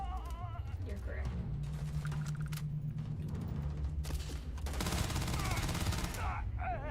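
Weapon fire in the sci-fi video game Starfield comes in several sharp bursts and a sustained volley, layered over droning game sound effects and tones at moderate loudness.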